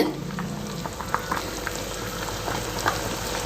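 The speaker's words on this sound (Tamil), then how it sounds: "இன்னும் ஒரு 5 நிமிஷம் குழம்பு நல்லா கொதிக்கட்டுங்க." A pot of drumstick masala curry bubbles and simmers steadily, with soft popping and sizzling crackles scattered over a constant low hiss.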